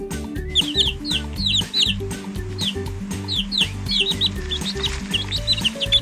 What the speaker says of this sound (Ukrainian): Біля них кудахче квочка вона їсти також хоче